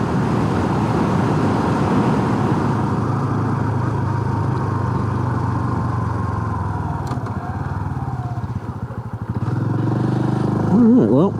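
A Honda Super Cub motorcycle rides along a highway on a late-night commute, its small engine humming steadily close up, easing off as it slows, then revving up again at the end.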